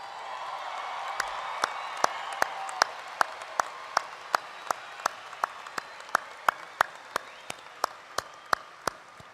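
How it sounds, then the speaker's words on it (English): Graduation-ceremony crowd applauding and cheering, a broad wash of clapping and voices overlaid by a steady series of sharp, evenly spaced loud claps or beats ringing out about twice per second. "One more round of applause"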